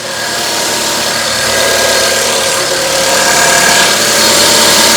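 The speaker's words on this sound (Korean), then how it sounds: "이제 엔진 소리 한번 들려드리도록 하겠습니다" A Chevrolet Spark's small engine idles steadily up close, a continuous even hum with a light rhythmic knock and no voices.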